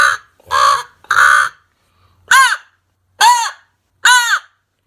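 Six raspy, deep crow caws made by a man blowing a crow hunting call while gargling, each harsh burst about half a second long and evenly spaced with short gaps, loud and close, a voice-driven imitation of crows with no speech.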